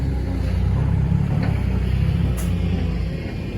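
A farm ploughing tractor sits idling nearby, its engine giving a steady, loud low rumble with an even throb throughout and little change in pitch.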